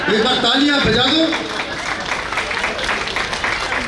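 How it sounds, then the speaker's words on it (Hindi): Audience applause at a Holi festival event: a crowd claps steadily under a man's speech that opens the stretch, the clapping continuing on its own afterward. "एक बार तालियां बजा दो।"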